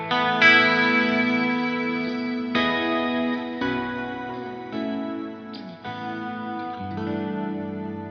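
Electric guitar played through Black Country Customs/Laney pedals with reverb added, ringing out sustained, layered ambient chords that change every second or so and wash into each other.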